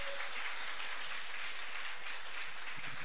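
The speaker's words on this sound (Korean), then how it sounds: "우리 박수 한번 다시 한번 쳐주시고" A church congregation claps together during a sermon service, making a dense and steady wash of applause that lasts throughout.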